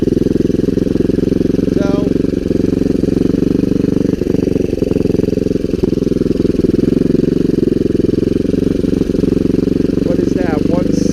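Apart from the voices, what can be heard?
Kawasaki Bayou 300 ATV engine running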